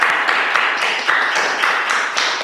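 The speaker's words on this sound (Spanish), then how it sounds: "Vamos a recibirle un fuerte aplauso, mi gente." Studio audience applauding to welcome a guest onto a Spanish-language interview show, steady dense clapping with a few louder bursts throughout, close and continuous.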